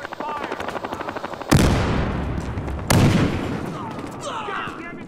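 Gunfire in the Battlefield Hardline video game: two sharp, loud blasts that ring out and decay, with rapid mechanical rattling and a whirring engine in the background and a voice in between.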